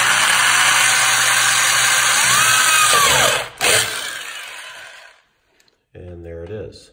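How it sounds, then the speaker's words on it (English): A power drill whines loudly and steadily for several seconds, drilling pilot holes in a Ski-Doo ski, bores through with a brief surge, then stops; a voice talks briefly afterward. "set your drill bit, and start drilling."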